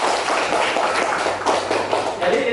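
A classroom of students claps in applause, a dense burst of hand claps that continues at a fairly even level across the moment.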